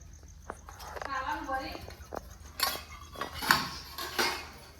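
Dishes and steel cutlery clink and rattle as they are handled during a home meal, with scattered sharp taps and scrapes under background voices.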